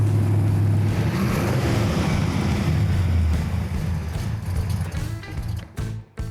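A classic car's engine runs outdoors on a sunny day with a loud, steady, deep rumble close by, holding even before dipping and sputtering briefly near the end.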